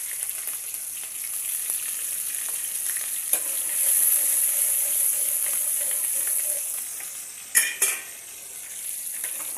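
Green chillies fry in hot oil in a pan for veg fried rice, a steady bright sizzle running throughout with a couple of metallic clinks from stirring near the end.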